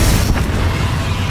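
A Confringo spell explosion in Hogwarts Legacy lands as one loud, close, dense boom with a rumbling tail over about a second, with no talk.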